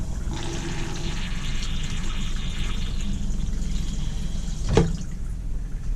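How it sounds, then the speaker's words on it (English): Water rushes steadily into the toilet bowl of a Flagstaff E-Pro E20BHS travel trailer, a loud continuous fill with a brief sharp clunk near the end. "And then the toilet. So halfway down, I believe, gives me water."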